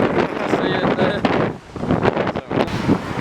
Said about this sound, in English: Still very windy though.